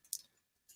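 Computer mouse clicks, two quick quiet taps close together.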